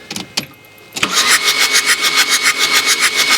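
A troubled engine is cranked, first a few clicks and a short pause, then a steady rhythmic whirring crank of the starter that pulses evenly, loud and close, without catching.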